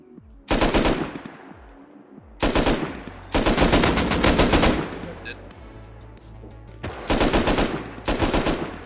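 Heavy automatic gunfire from large weapons in the survival video game Rust, loud close bursts of rapid shots in several volleys separated by short pauses, with brief quieter gaps and distant pops between.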